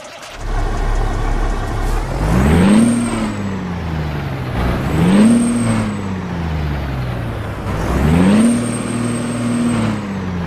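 A Kenworth W900 day cab with a Cat C18 engine in American Truck Simulator runs loud and close, revving up through three gear pulls, each a rising diesel drone that peaks and drops back before climbing again.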